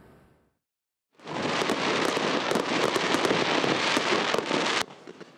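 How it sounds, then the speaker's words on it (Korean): Dense, continuous crackle and rapid pops of fireworks at the Jinju Namgang lantern festival on a weekend evening, loud and sustained for several seconds after a brief quiet, then cutting off abruptly. "주말 저녁 유등축제장 밖에서 불꽃놀이를 관람하는 진주 시민들"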